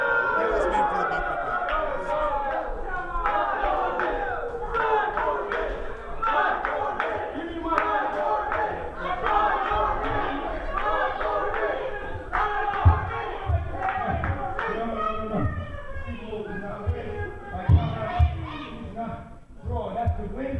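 Wrestling crowd at a live match roaring, chanting and clapping after a time-limit draw, a dense loud wash of many voices with rhythmic chant pulses and stomping thumps throughout.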